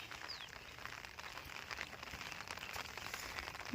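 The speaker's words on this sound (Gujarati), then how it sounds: "વરસાદ હજુ ચાલુ જ છે." Rain falls steadily outdoors on a farm, a faint, even hiss of patter with soft scattered drops and no other sounds standing out.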